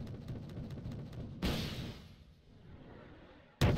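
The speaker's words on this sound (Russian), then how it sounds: "Вот сюда идет выстрел в артиллерии, Алекс." Artillery fire in the video game Wargame: Red Dragon: a heavy boom erupts and rumbles away over a couple of seconds, followed by another sharp blast at the end, like distant artillery.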